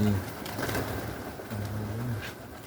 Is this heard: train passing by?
no